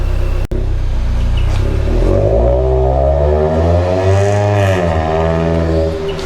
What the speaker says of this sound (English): the kid with the Kia over there revving up his really awesome exhaust